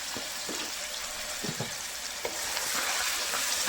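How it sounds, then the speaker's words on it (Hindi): Meat frying in a pot for pulao, a loud steady sizzle with a few sharp stirring scrapes at regular intervals, up close and without talk. "अब हम इसको इसमें अच्छी तरह से फ्राई करते हैं"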